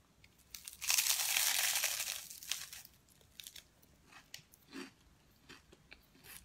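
Crunchy pig ear being chewed close to the mic, a loud crackly crunch at first followed by quieter irregular chewing and biting sounds.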